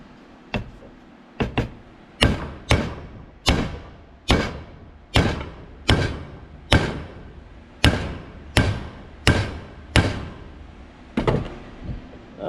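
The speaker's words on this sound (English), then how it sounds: "And then you just hammer on the top." Hammer blows strike the top of a Gleaner combine slip clutch during a rebuild: about fourteen sharp, ringing metallic impacts at a steady, slightly uneven pace, loud and close with no talking.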